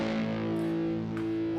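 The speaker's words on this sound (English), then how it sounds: "distorting this acoustic sound kind of sounds better to me" An Aeroband electronic guitar set to an acoustic tone and run through distortion rings out as one sustained, buzzy chord, held steadily and alone.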